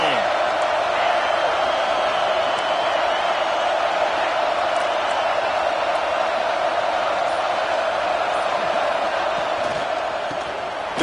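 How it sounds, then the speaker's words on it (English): A big college football stadium crowd roars steadily at Penn State vs Miami, a dense, loud wall of voices holding for the whole stretch and easing slightly at the end. "This crowd ready to make its presence known."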